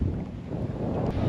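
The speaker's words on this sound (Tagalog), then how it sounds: "Wala kusog na kay hangin tanawa" Steady, heavy wind at Lake Holon, T'boli, South Cotabato, buffeting the microphone, a continuous low roar with rushing gusts throughout and no voices.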